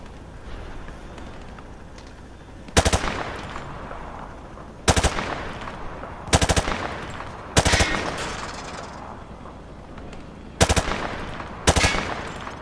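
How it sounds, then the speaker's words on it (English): Automatic weapon fire in the game Call of Duty Modern Warfare 2 sprays at practice targets, six sharp loud bursts spaced a second or two apart over a low ambient background. "He sprayed bullets all over the damn place."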